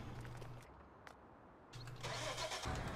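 Tractor engine in Farming Simulator 19, heard as a brief mid-pitched engine burst, a short quiet gap, then the engine again, rising into a louder rush at the end. No one speaks.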